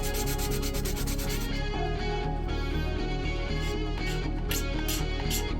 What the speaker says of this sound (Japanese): やっぱりこれも同じようにここあれだねヤスリで磨いてしまった方がいいですね。